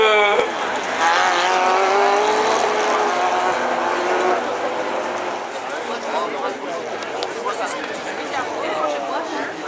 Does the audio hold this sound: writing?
no